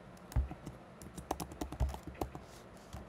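Typing on a computer keyboard, quiet and close: irregular bursts of soft key clicks with a few heavier thumps, like the enter key or space bar, and no talk.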